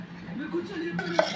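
Chicken pieces being mixed by hand or spoon in a bowl for chicken pachadi, giving soft scraping and clinking of dish and utensil, with one sharper clink near the end and a faint voice underneath.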